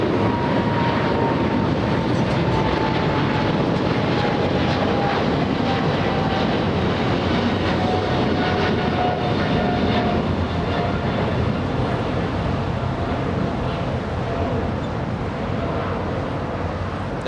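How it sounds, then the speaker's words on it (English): Qatar Cargo jet taking off from runway 25 right at LAX, a loud, steady, broadband engine roar that holds for the whole stretch with a faint descending whine, no talking. "There goes Qatar Cargo flying to Brussels using runway 25 right"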